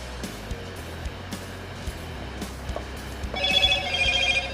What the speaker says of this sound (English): Forgot to silence the phone.